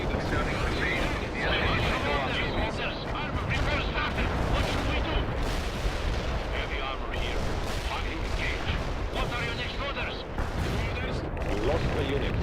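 An anti-tank strike in the World in Conflict war game lands as a dense barrage of booming explosions and crackling gunfire, loud and continuous with rapid overlapping blasts.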